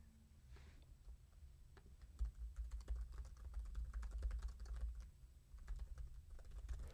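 Steady typing on a computer keyboard, a continuous run of quick clicking keystrokes, fairly close and moderately loud, with no talking over it.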